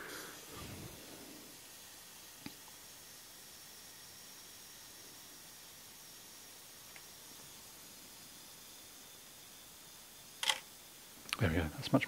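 Two sharp mechanical clicks of a Pentax MG film camera shutter firing, close by, in a quiet room, the second burst arriving near the end after a long pause.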